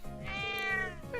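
A cat in the video game Trails of Cold Steel meows once, a clear, drawn-out harmonic cry that rises and falls over about a second, heard alone against a soft background with no talking.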